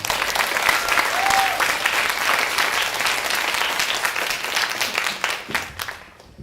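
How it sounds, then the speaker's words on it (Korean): An audience claps loudly and steadily after a band member is introduced at an ensemble's member introduction, dense applause that fades out near the end with a few cheers mixed in. "모두 수고한 악장님을 위해 힘찬 박수 부탁드립니다."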